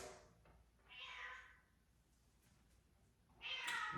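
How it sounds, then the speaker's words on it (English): A cat meows twice, soft and close, the second call louder and higher, with a quiet gap between. "That's my cat."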